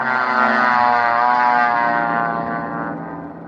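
Propeller airplane taking off as a radio drama sound effect: a loud, steady engine drone with a rising harmonic whine that holds for several seconds, then slowly fades as it climbs away, with no voices.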